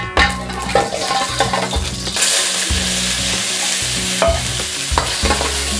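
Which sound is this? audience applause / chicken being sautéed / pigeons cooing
chicken being sautéed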